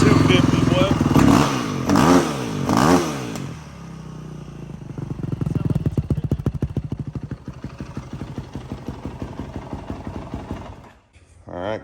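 2008 Yamaha WR450F street-legal dirt bike engine revving in several sharp blips, then settling into a fast, rattly idle, close by, with voices talking over the start.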